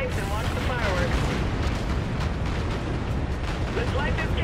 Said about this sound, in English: Visual on that tower detonation. Follow these pipes and watch the fireworks.